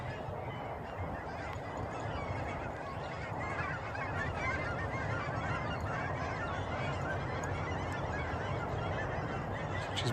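Birds honk steadily at a distance as a bird dog flushes them in the field, a continuous faint chorus of goose-like calls with no talk.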